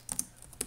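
A few quick keystrokes on a computer keyboard as a terminal command is typed on Ubuntu, with a small cluster of clicks early and one more near the end, close and fairly quiet with no talking.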